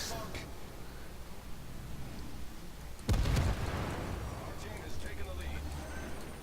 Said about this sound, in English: Torpedoes, direct strike.